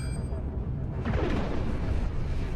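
Ion beams and deck cannons firing in the space combat game Cosmoteer, a dense rumbling barrage of low booms with a rising whooshing sweep midway, continuous and fairly loud over a couple of seconds.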